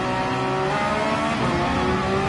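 A race car's engine in a racing video game at Barcelona, held under heavy throttle: a steady, loud, buzzing drone with strong harmonics that rises slightly in pitch and runs continuously for the whole stretch, with no talk.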